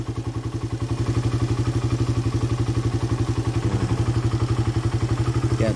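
A motorcycle engine fitted with a replacement carburetor idles close by in a fast, steady thumping rhythm, with a slight rise in level after the first second and no speech.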